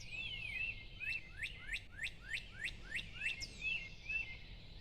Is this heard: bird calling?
yes